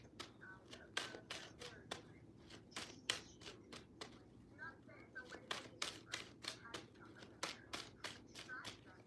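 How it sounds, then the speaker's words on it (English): Tarot cards being shuffled in quick riffling bursts, a rapid series of crisp flutters and taps with brief pauses, close up over a quiet room hum. "What am I shuffling?"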